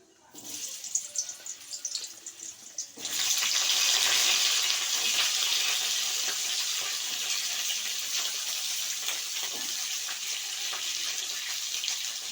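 Vegetables tipped into a hot pan of oil with kalonji set off a sudden bright sizzle after a few quiet seconds, then keep frying in a loud, even hiss.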